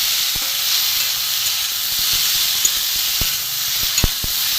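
Soybean curry masala fries in a pan with a steady, close hiss and sizzle, broken by sharp scraping clicks from irregular stirring.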